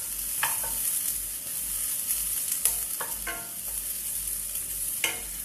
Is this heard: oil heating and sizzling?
yes